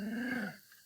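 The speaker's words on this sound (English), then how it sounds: "I hear a growl, but that doesn't sound like a bear. It sounds more like a dog." A dog-like growl sound effect plays in the Scratch programming tool, a single low rumbling snarl lasting about half a second before cutting off into near silence.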